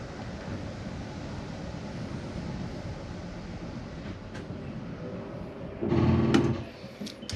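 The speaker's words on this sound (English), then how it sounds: "Still hear your rear slide going in." A steady mechanical rumbling drone of a Flagstaff 26 FKBS RV's rear slide-out retracting runs throughout, swelling briefly into a louder grinding hum near the end before settling, with no talking.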